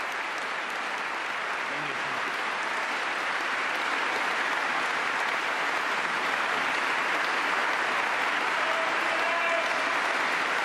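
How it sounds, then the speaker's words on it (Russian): Members of the UK Parliament applaud Ukrainian President Zelensky as he comes to the rostrum, a dense and continuous roar of clapping from a large chamber that stays loud and even throughout. "Под аплодисменты"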